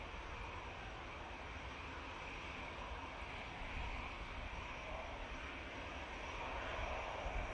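Boeing 777-300ER airliner engines at Manchester Airport produce a steady, fairly distant broadband roar that swells slightly toward the end, with no voices.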